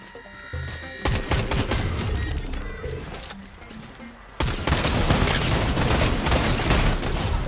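Rapid gunfire bursts from a Fortnite match, near and loud, with dense volleys that swell sharply into a sustained barrage partway through.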